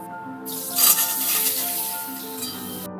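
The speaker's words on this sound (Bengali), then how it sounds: "আলুটা ভাজবো অল্প একটু হলুদ দিচ্ছি" Boiled potatoes with a little turmeric hitting hot oil in a pan, a sudden loud broadband sizzle that swells, holds steady for a couple of seconds, then cuts off, close by.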